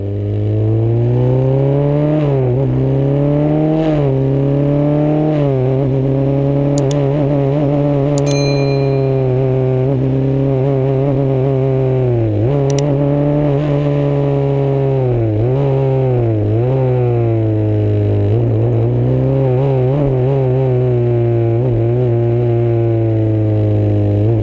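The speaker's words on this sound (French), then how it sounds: "je vais me taire pour laisser le son du moteur" A Formula 3 race car engine screams loudly and continuously on the Paul Ricard circuit, its pitch rising and falling sharply through gear shifts and revs, with no talking.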